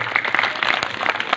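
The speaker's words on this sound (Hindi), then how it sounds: "जोरदार ताली दीजिए।" An audience at a marriage anniversary ceremony breaks into a short, dense burst of clapping that fills the space evenly from start to finish.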